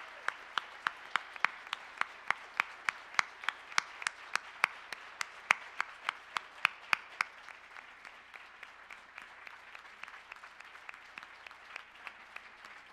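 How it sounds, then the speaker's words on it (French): Audience at a 2017 Saguenay mayoral candidates' debate clapping in a steady, regular rhythm, sharp individual claps fairly close and even, gradually loosening and thinning toward the end. "je vous invite à applaudir chaleureusement nos candidats"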